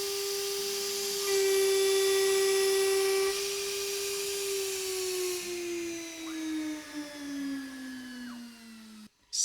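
Avid CNC Benchtop Pro router spindle milling aluminum near 20,600 RPM, a steady high whine with a strong cutting tone that sharpens mid-cut, then slowly falls in pitch as the spindle winds down, close and alone.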